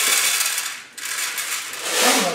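Dry popcorn kernels poured into a home popcorn machine, a continuous loud rattling hiss of small hard kernels that dips briefly near the middle and swells again toward the end.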